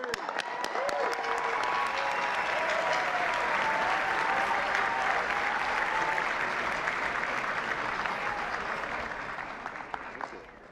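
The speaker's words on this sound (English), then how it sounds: "Thanks for keeping that applause going all the way, too." Audience applause for a comedian taking the stage at the 2016 White House Correspondents' Dinner: dense, steady clapping from a large crowd, sustained for about ten seconds before easing slightly at the end.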